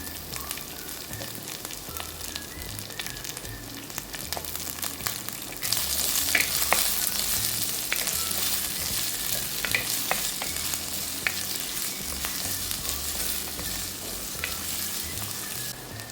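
Chopped onion and small shallots drop into hot oil in a pan, and a steady sizzle swells louder partway through, with scraping stirs and light clinks of a spoon.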